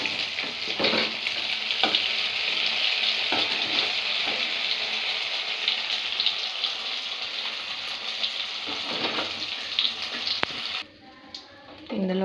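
Paneer fries in hot oil in a pan with a loud, continuous close-up sizzle and occasional crackles and stirring scrapes, and the sizzle drops away sharply near the end.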